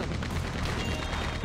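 Continuous rapid Gatling gun fire in Red Dead Redemption 2, a dense unbroken roar of overlapping shots, loud and steady across the whole moment with no talking.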